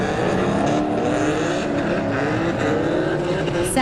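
An Infiniti G37 drift car chases another car around a kart track during a drift competition, its engine a steady loud roar that keeps going for the whole stretch, with a faint voice underneath.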